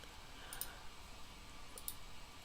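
Two faint, crisp mouse clicks, about a second apart, sound against a quiet background hiss as a form is submitted on a computer.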